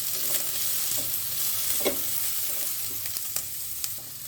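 Vegetables for spring rolls stir-fry on high flame, a loud, dense sizzle throughout with repeated scraping and tossing strokes of a spatula in the pan, close up and with no speech.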